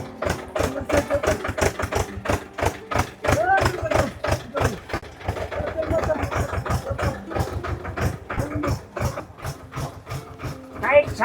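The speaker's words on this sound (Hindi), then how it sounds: "उसका ट्रैक्टर चढ़ नहीं रहा है" A tractor struggling up a rough, steep mountain path on the Kedarnath to Gaurikund trek, its engine chugging in a steady rapid rhythm, close and loud, while voices talk over it.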